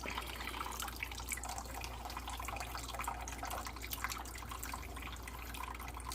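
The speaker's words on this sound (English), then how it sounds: "And then we'll just pour the sauce out." Sauce poured out of a cooking pot while preparing Vietnamese thịt kho braised pork, a steady liquid splashing and trickling with drips, continuous and close, under a low background hum.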